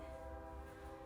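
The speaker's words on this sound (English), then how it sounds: "did you hear that? Yeah, that's a train." A train rumbles past in the distance, its steady low drone and faint horn tones running through the whole brief moment.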